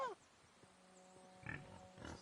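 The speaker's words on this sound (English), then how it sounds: "Where the hell did that pig go?" A pig in the Kingdom Come Deliverance 2 video game gives a couple of short, low grunts at moderate distance over quiet game ambience, with a faint high voice-like cry at the start.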